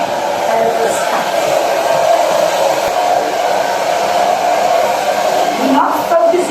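A hair dryer blow-dries hair during a styling session, its steady airflow roaring continuously and loudly throughout, with slight shifts in tone as the dryer moves.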